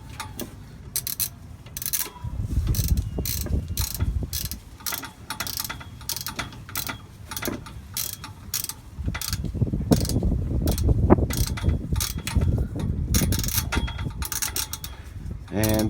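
Ratchet loosening the oil drain plug on an Onan 4kW RV generator: rapid, close clicking strokes repeated throughout, with some rustling handling noise underneath.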